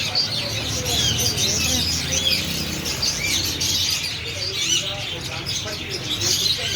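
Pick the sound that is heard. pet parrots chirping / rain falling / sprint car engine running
pet parrots chirping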